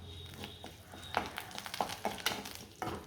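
Onions and curry leaves sizzle steadily in oil in a pan with sharp crackles and pops, punctuated by a few louder stirring scrapes, fairly close and without any voices.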